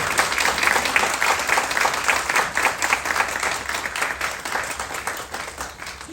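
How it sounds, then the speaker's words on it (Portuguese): An audience at a presentation on Brazilian numismatics gives a sustained round of steady applause, many hands clapping together evenly throughout with no voices rising above it. "Pessoal, peço uma roda de aplausos agora."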